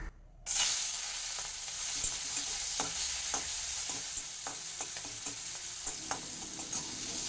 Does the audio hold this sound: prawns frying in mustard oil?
yes